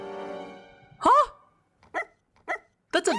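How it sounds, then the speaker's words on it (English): Small dog barking from an animated series: one sharp yip followed by three shorter barks spaced apart, close and clear, after a brief stretch of another sound. "That's a dog!"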